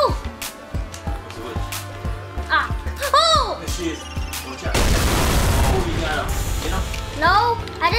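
Grenade launcher firing in the Roblox zombie shooter Left 4 Survival 2, with sharp booming shots and a big blast midway that leaves a sustained roar, heard under constant game music and excited talk.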